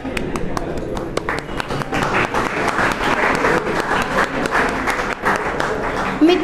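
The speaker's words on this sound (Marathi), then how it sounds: "तर टाळ्या थांबू नका, वाजवत राहा, सत्कार होत आहे." An audience applauds at a felicitation ceremony, with dense, continuous clapping that stays loud and steady throughout and occasional voices mixed in.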